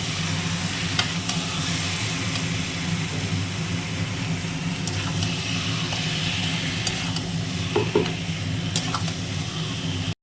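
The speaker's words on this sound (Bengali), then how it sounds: "এবার দিয়ে একটু কষতে হবে মশলাটা" Masala with marinated chicken sizzles steadily in a pan for a spicy chicken dish, with a spatula stirring and scraping in occasional strokes, close up over a continuous low background hum, with no talk.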